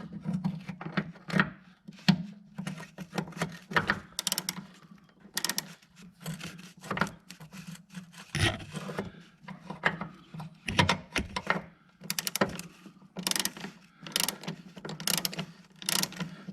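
A ratchet works on a rear shock bolt of a 2017 Ford Escape, making repeated quick clicking bursts over a low steady hum, close and moderately quiet.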